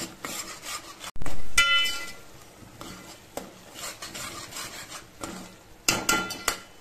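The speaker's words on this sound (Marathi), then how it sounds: "आता आपण वाटण केलेला मसाला टाकायचा, छान परतून घ्यायचं।" Ground masala paste being stirred and sautéed in a pan for misal pav, with loud scraping spatula strokes and clanks against the metal over a soft sizzle, coming in irregular bursts.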